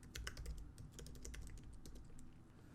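Steady, quick typing on a computer keyboard while entering a username and password, a dense run of soft close key clicks over a faint background hum, no talking.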